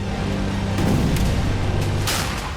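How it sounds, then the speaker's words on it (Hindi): Dense, loud rumbling bombardment of tank, artillery and rocket launcher fire, with deep booming low end and a few sharp cracks near the end, continuous and distant-sounding. "रूस के टैंक, आर्टिलरी और रॉकेट लॉन्चर ने ताबड़तोड़ अंदाज में विस्फोटक प्रहार किया।"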